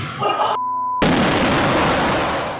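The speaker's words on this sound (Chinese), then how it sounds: "篮球爆炸了" A basketball bursts with one sudden, loud boom partway through; a brief steady tone is heard just before, and the blast leaves a broad, roaring decay.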